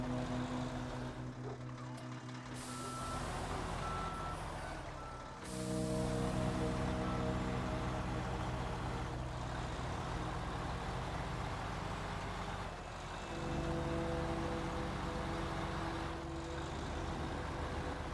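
Heavy truck engine in the snowy off-road driving game SnowRunner drones loudly and steadily, with shifting revs and a couple of brief dips, alone with no talking.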